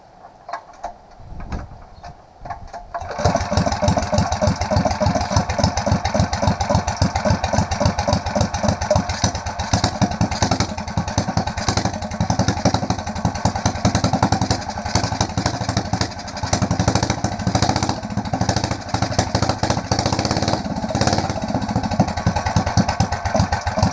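An 8hp mini bike engine fitted with a 26mm performance carburetor is pulled over and catches after a few seconds of quiet, then runs loud and close with a steady, rapid chugging idle.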